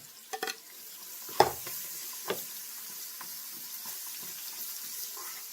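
Garlic and onion frying in a pan as the base of a shrimp Alfredo sauce: a soft, faint, continuous sizzle broken by a few sharp clinks and scrapes of stirring.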